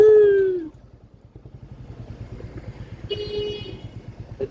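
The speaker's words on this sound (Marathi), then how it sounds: "ट्रॅफिक जाम झालेलं आहे." Car horns honk in a traffic jam, one loud drawn-out blast up front and another shorter honk later, over a steady rumble of idling engines close by.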